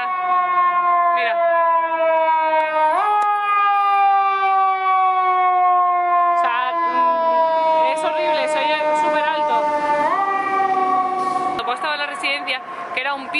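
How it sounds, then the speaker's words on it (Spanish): A loud emergency vehicle siren from an ambulance or fire engine in the United States, a sustained rich tone that steps up and down in pitch, with voices faintly mixed in over the second half. "el tema ambulancias y coches de bomberos, no sabéis lo fuerte que llevan las sirenas"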